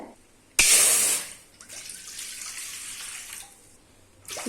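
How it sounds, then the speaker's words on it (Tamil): Cups of water pour steadily into a cooking vessel for ragi porridge with a bright splashing rush, strongest at first, then settling into a softer continuous flow. "நாலு கப்பு தண்ணி ஊற்றிக்கலாம்"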